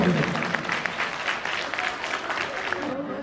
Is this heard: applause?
yes